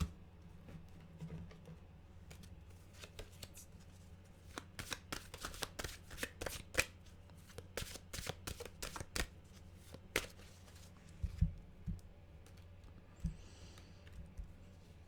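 A deck of tarot mantra cards is shuffled close up, giving a burst of quick, crisp riffling snaps and soft flutters in irregular bunches at low volume. There is no talking.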